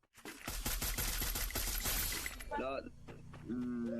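AK47 gunfire in a mobile shooting game, a loud rapid burst of automatic shots lasting about two seconds, followed by shattering game effects and rising synthetic tones.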